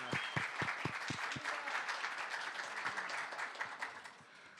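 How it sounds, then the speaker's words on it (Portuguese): Audience applause for a university rector at an urban climate challenges conference, a dense, sustained round of clapping from a sizable crowd with a few sharp, distinct claps at the start. "não será a última sessão de aplausos, né?"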